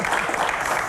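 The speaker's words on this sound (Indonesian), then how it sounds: "Tepuk tangan buat Pak Ferry." An audience bursts into steady, dense applause for Pak Ferry at a Q&A talk show, filling the short moment evenly from start to finish with no voices on top.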